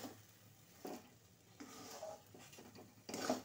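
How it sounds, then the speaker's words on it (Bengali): Pitha filling with raisins being stirred slowly in a wok, giving faint scraping and soft sizzling strokes that repeat every second or so, close and quiet, with no talking. "এবার আস্তে আস্তে করে আমি এটা নাড়তে থাকবো"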